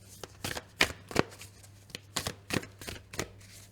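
Oracle animal cards being shuffled and handled by hand, a run of crisp, close card riffles and slaps in an uneven rhythm, fairly quiet with no talking.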